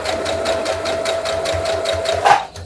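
Sewing machine stitching across a folded fabric pleat for a mushroom hat, a steady fast needle rhythm running close and loud, then briefly speeding before stopping.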